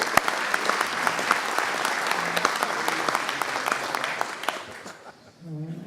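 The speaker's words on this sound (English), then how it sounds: "Let's give him a round of applause." Steady applause from a crowd, many hands clapping densely and evenly for several seconds before thinning out near the end.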